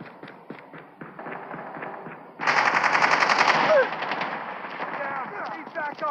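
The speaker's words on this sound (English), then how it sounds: "Friendly sentry gun deployed." Sentry gun in a Call of Duty video game firing a sustained rapid burst of automatic gunfire, loud and dense for a few seconds before easing, following a short spoken announcement.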